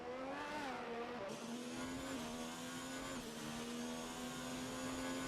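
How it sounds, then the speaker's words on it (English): Race car engines roar steadily through the Monaco tunnel in a Grand Prix racing video game, a loud continuous high-pitched whine with slight pitch shifts as the cars accelerate. "You can hear the roar of those engines inside this tunnel."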